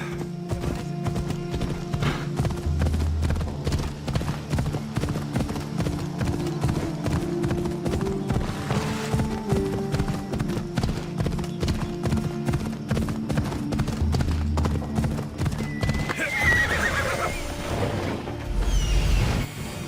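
Horse hooves clip-clop loudly and steadily at a fast gallop, with a brief whinny partway through and other rumbling movement underneath.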